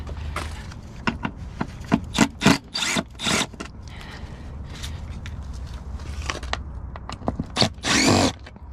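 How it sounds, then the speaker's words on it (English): Electric drill biting into dumpster scrap metal, with several short loud bursts of whirring and grinding separated by brief pauses, plus rattling and handling noises nearby. "I don't carry a Sawzall, but I do carry a drill"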